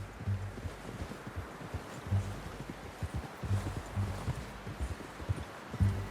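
Horse hooves clip-clop at a slow, even pace in Red Dead Redemption 2, with regular low thuds repeating about every second under a wash of outdoor ambience and no talk.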